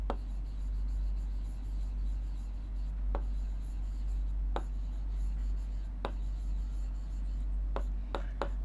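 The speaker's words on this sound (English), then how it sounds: "let us write down the information that has been given to us" A pen writes on paper during a maths lesson with a soft, continuous scratching and several sharp taps from the nib, set over a steady low hum, with no talk.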